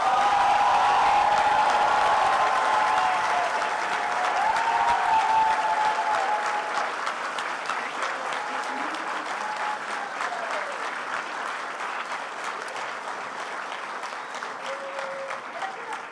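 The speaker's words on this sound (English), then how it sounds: "Please give them a round of applause." A seated crowd at a medical school white coat ceremony applauds the class of 2029, a sustained, dense wash of clapping that stays steady and fairly loud throughout, fading slightly toward the end.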